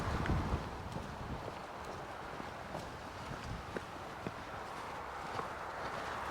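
Quiet footsteps crunching across the sand of Kenfig Dunes, a soft irregular tread with light wind noise in the background.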